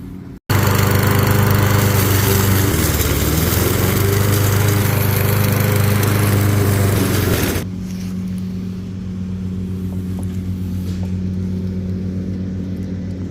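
A lawn mower mulching up fallen leaves roars loud and steady nearby for several seconds, then cuts back to a quieter idling drone.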